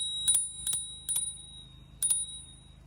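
A bicycle bell built into the brake lever of a Roadster e-bike rings four times. The bright, high pings are evenly spaced and close, over a low background hum.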